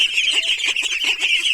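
Chinese geese honk close by, a rapid string of loud, nasal calls overlapping one another in an uneven rhythm throughout the short stretch.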